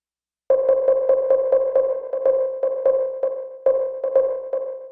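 Elektron Digitakt arpeggio with a dotted sixteenth-note delay: bright, clean synth tones repeat in a rapid, uneven rhythm with echoing repeats trailing each note, loud and alone with no talking.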